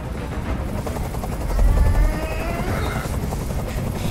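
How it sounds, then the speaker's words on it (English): A helicopter hovers in Detroit: Become Human, its loud, steady rotor drone filling the whole stretch and swelling slightly in the middle. "I can't stand that noise anymore. Tell that helicopter to get out of here."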